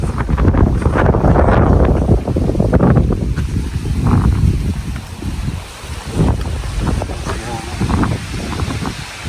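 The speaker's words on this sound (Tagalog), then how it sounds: "Grabe yung hangin dito." Strong gusts of wind buffet the microphone in heavy, roaring bursts, with a voice speaking intermittently beneath the rush of air.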